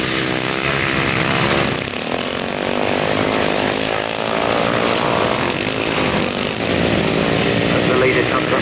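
A JAP-engined grasstrack racing motorcycle snarls at high revs in a loud, continuous buzzing drone, heard under a race commentator's voice.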